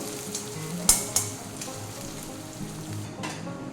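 Two medium onions, freshly added to hot oil in a pan, sizzle and fry steadily, with a couple of sharp clicks near the start and no voices.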